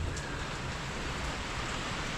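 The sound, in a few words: rain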